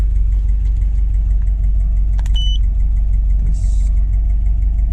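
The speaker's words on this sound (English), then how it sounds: "it's idling around like 600-ish RPM" A Subaru Impreza 2.5RS with a swapped EJ205 engine idles steadily around 600 RPM up close, a low continuous rumble with a faint brief chirp partway through.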